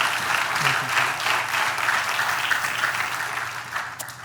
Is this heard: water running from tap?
no